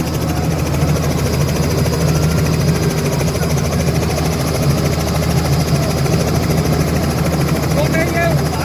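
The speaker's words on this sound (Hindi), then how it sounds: "पवन सिंह गिरी हेलीकॉप्टर से उड़ रहे हैं" A helicopter flies overhead at a crowded village gathering, its rotor and engine producing a loud, continuous thrumming drone that holds steady throughout, mixed with crowd noise.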